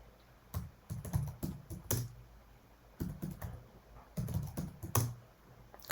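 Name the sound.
typing a passphrase on a computer keyboard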